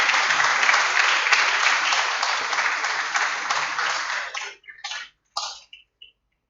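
An audience breaks into sustained applause, loud and steady, then it thins to a few scattered claps before fading to silence.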